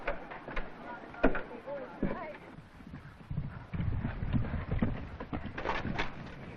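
Hooves clip-clop at a steady walking pace on a hard surface, with faint voices and background noise mixed in.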